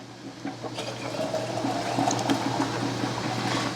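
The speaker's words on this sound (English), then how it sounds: "And I'm adding boiling water in with these beans" Boiling water is poured from a boiling canner into a pot of unsoaked chickpeas being prepared for pressure canning, a steady, moderately loud watery gush running throughout with no talking.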